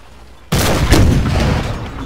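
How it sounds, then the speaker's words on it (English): Cannons fire in a Napoleon: Total War North & South mod battle of Shiloh, set in the American Civil War, a sudden loud blast rolling into a sustained rumbling barrage after a quiet start. "So here they go, the cannons,"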